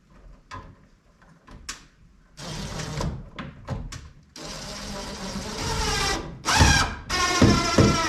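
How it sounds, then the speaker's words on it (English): Small wood screws driven to tack a canless recessed light in place in a bathroom, several short buzzing bursts of a driver with pauses between, then longer runs close by. "I'm just gonna tack this in place with these little wood screws that it came with"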